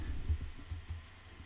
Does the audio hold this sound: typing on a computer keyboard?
yes